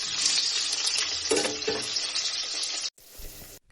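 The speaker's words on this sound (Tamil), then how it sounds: "வெங்காயம் வதங்குது." Onions, 250 grams, sautéing in a pan for biryani, a loud close sizzle with stirring scrapes that cuts out abruptly near the end before a fainter, different burst resumes.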